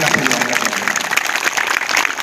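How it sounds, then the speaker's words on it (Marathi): Audience applause at the 60th anniversary celebration of Bharatiya Yog Sansthan in Chhatrapati Sambhajinagar, a steady dense patter of clapping from a crowd that holds through the short stretch with some voices mixed in. "जोरदार टाळ्या याच्यासाठी"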